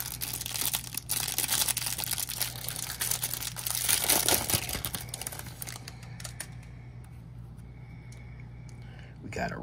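A Topps 2023 Update hanger pack of trading cards is torn open, with loud, close crinkling and rustling of the wrapper for several seconds that then fades, while a soft voice murmurs.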